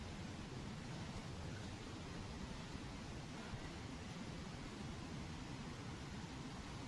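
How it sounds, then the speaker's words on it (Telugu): Water from a waterfall rushes down in a dense, unbroken roar, heard steady and fairly faint from a distance with no other sounds standing out. "ఓ ఇయ్యా నీళ్ళు దూకుతున్నాయి ఇట్లా"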